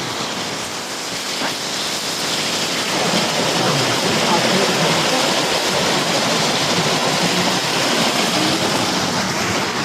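Hot spring water pours into a pool with a surrounding bench, giving a loud, continuous, broad rushing wash that swells slightly after the first few seconds.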